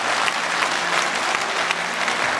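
An audience at a formal governor's event in Lucknow gives sustained, dense applause, with many hands clapping steadily and evenly throughout, filling the hall with no speech over it.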